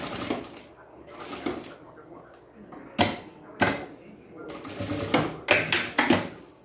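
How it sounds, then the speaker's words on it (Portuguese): A sewing machine stitches a transparent plastic organiser folder in short, loud, rapid bursts separated by pauses, with a person talking close by between and over the runs. "eu vou passar uns 2 centímetros da onde eu iniciei e vou finalizar a minha costura"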